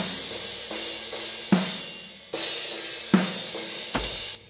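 Drum overhead microphones in a metal recording with no kick drum: bright washing cymbals and periodic snare cracks, a few loud accented hits decaying between, no low thump underneath.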